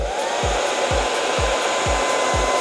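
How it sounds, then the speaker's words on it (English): A conventional blow dryer on its high setting roars steadily and loudly while heating glue, with a rhythmic low thumping pulse recurring about every half second beneath the airflow. "Just use your conventional blow dryer on a high setting and it'll do just fine."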